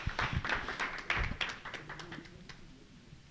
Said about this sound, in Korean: 우리 노두용 원장님에게 박수 한번 보내주십시오.